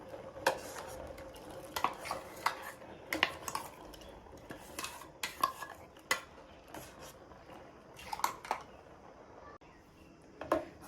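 Spoon stirring masala paste into greens water in a metal pot, giving irregular clinks and scrapes against the vessel with quiet swishing between strikes, no talking.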